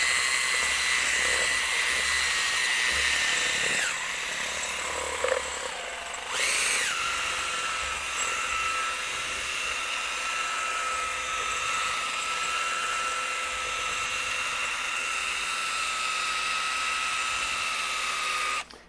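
A cordless drill fitted with a paddle mixer runs steadily, stirring clear cast epoxy in a bucket, with a continuous high whine that briefly dips and changes pitch before resuming its even drone throughout.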